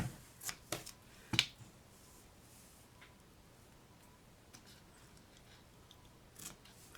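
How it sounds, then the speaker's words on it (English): Scissors snip the edges of paper on a craft project in a few sharp, quiet cuts early on, followed by near silence and one more faint snip at the end. "Let me snip my edges here."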